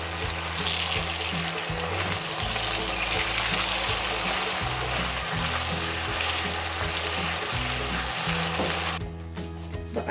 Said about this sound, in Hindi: एक 2 मिनट के लिए अदरक लहसुन के पेस्ट के साथ भूनेंगे।